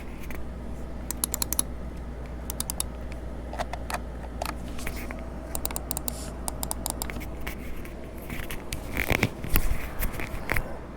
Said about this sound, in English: we're gonna do the sound test on the left click and right click